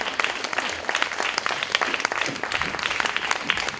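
Audience applause as team members are called to the stage at a Jean Claude Biguine evening event at the BBox: dense, close clapping with sharp overlapping claps, steady throughout with no talk on top.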